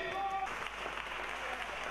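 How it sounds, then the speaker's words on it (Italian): Scattered applause rises from the stands at the end of a futsal match. It is faint and distant, with a voice talking over it. "vedete qualche applauso dalla tribuna"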